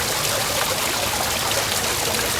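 A backyard waterfall fitted with Alpine foggers, pouring steadily in a dense, even rush of splashing water, close and loud with no pauses.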